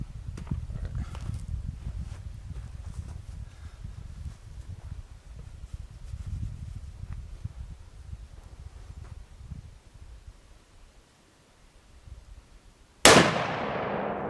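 A single sharp rifle gunshot fired during a deer hunt cracks out near the end after a stretch of quiet outdoor rustling, loud and close with a brief decaying echo.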